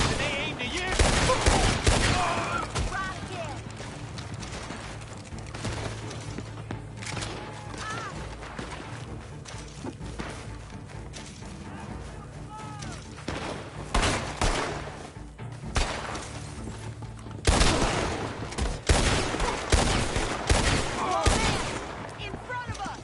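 Gunfire in Red Dead Redemption 2, repeated volleys of shots crackling back and forth over about twenty seconds, loud bursts at the start and near the end, with mechanical clatter between them.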